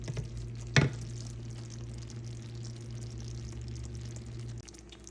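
Raw peanuts stirred into hot candy syrup at about 275 degrees in a cast iron skillet for peanut brittle, with a soft steady sizzle and a brief louder scrape or clatter near the start.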